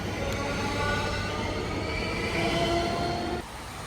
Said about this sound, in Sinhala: ඉතින් මම ට්‍රේන් එකෙන් දැන් බැස්සා විතරයි මේ මම ආපු ට්‍රේන් එක